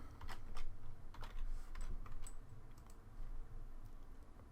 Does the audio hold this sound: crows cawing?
no